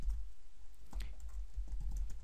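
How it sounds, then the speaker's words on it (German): Keys tapped on a computer keyboard, quiet irregular clicks over a low hum, no talking. "Ich nehme jetzt die Tastatur."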